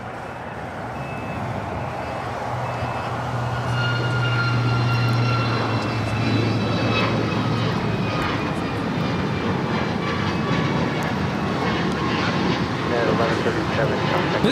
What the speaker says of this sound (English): 1137 taking off to Guatemala City on the MAX 8.